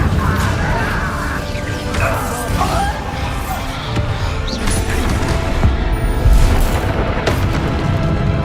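Fiery spell explosions booming and crashing in Hogwarts Legacy, a wizard battle game on PS5, with dense whooshing impacts and rumbling bursts that stay loud and continuous, layered over a busy combat soundscape.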